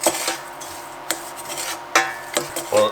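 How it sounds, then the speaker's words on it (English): A spoon scrapes and knocks around a pot of tomato sauce with dried basil, granulated garlic and black pepper, giving several short, distinct strokes and clinks at close range with no talking. "Now let's give that a stir."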